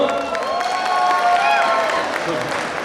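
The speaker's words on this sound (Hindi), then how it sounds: "चिराग जैन जी एक बार जोरदार ताली, एक बार और।" Students at an alumni meet clap and cheer for a guest speaker in a moderate, continuous round of applause, with voices carrying over the clapping throughout.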